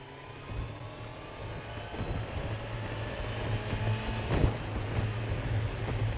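A 100 horsepower boat engine runs at high speed, giving a steady mid-pitched drone that builds slightly in loudness with wind and water rush over it, heard close and without talking.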